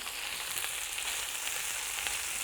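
Steady, dense sizzling of peppers frying in a hot pan for chicken paprikash, a continuous bright hiss with faint crackles throughout, no voices.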